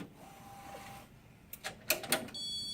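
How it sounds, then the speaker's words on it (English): A poster printer mechanism whirs and clicks, with a few sharp ticks and brief motor whines as the print head shuttles, ending in a steady high electronic tone. "The part that's moving back and forth is the print head"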